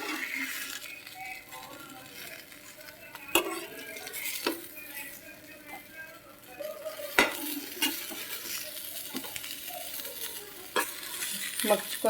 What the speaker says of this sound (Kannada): ಫ್ರೈ ಆಗ್ತಾಯಿದೆ ಫ್ರೆಂಡ್ಸ್.